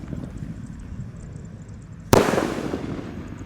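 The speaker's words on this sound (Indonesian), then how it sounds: "di sini ada mercon Bima Sakti yang akan kita nyalakan" A Bima Sakti firecracker rocket goes off outdoors in one sudden loud bang over a low background murmur. The crack decays into a crackling tail.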